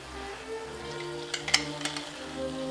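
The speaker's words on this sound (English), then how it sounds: "We'll add our shallots to this" Shallots hitting a hot pan beside roasting beef give a soft steady sizzle, with a few light metallic clinks of a utensil against the pan partway through.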